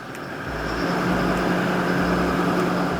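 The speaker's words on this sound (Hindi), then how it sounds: "जैसे मैं पावर हीट ऑन करूँगा तो इसका आरपीएम ज़्यादा हो जाएगा" A Toyota Revo diesel engine idles and then revs higher as power heat is switched on, a steady close rumble that rises in pitch and loudness over the first second and holds there.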